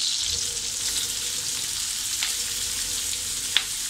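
Chillies and onion sautéing in a pan for a Konkan Malvani-style radish curry, a steady close sizzle with faint stirring scrapes and one brief clink near the end.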